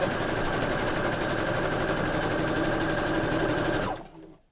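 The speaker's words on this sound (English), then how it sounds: "I'm just going to stitch it really quick to make this go a little bit faster." Sewing machine stitching a face mask lining, a steady fast mechanical whir with rapid needle rhythm, running continuously before stopping abruptly near the end.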